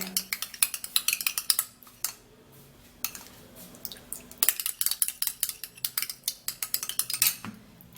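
Egg white mixture stirred briskly in a bowl, a close series of quick clinking and tapping strokes of utensil against the dish, coming in bursts with short pauses between them.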